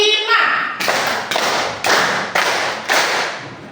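A group of children clap together in a counted rhythm, with five sharp, evenly spaced bursts of clapping following a short spoken count.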